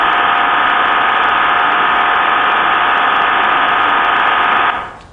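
A received digital radio modem signal, smeared by noise and frequency offsets, sounds as a continuous loud hissing, droning band of tone that stops near the end.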